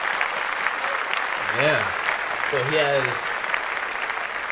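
A steady wash of applause from a studio audience runs through the whole stretch, moderately loud, with someone briefly talking over it.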